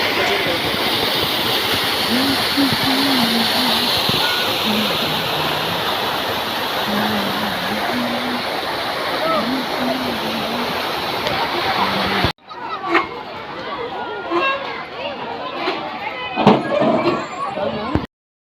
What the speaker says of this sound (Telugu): ఇది వచ్చి ఆర్టిఫిషియల్గా క్రియేట్ చేసిన ఒక వాటర్ ఫాల్స్